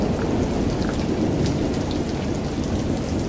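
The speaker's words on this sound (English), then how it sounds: "That's the downpour we were expecting." Heavy rain pouring down in a steady, dense roar, continuous and close throughout with no voices over it.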